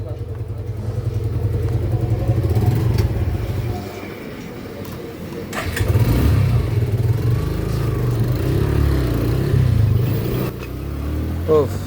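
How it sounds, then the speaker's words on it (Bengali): A Suzuki Gixxer motorcycle on the road between Cox's Bazar and Teknaf runs with a low engine drone that dips and picks up again as it is ridden, while someone talks over it. "গাড়িটা স্টার্ট দিয়ে দিলাম আর টেস্ট দেওয়ার জন্য বের হয়ে গেলাম গাড়িটা নিয়ে"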